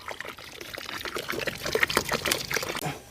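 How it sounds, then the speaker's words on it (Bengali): Lemon-infused water poured slowly into hot milk to split it for chhena, a close, uneven trickle and splash of liquid with small gurgles and drips. "লেবুর রস, লেবু মেশানো জলটাকে এখন আস্তে আস্তে দুধের মধ্যে ঢেলে দেব।"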